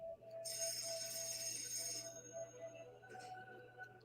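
A phone rings in a scene from the film The Batman, its tone clear over a low steady hum for about two seconds. The ring then fades, leaving fainter background sounds.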